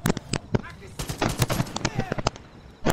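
Gunfire in the video game Far Cry 5: sharp, loud shots in irregular bursts, some rapid and clustered, with a short lull before a final volley, while people talk over it.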